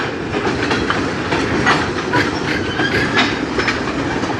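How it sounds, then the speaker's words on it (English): A CN industrial freight train rolls by close up on the Strathroy Subdivision in the Sarnia–Lambton County area, a steady rumble with rhythmic clickety-clack of wheels over rail joints throughout. "this is an industrial train."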